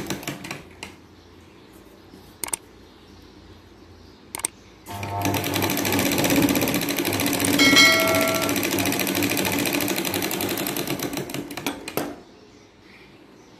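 A sewing machine stitches a lined katori blouse, with one long, steady, close run of fast needle chatter that stops abruptly, surrounded by a few sharp handling clicks.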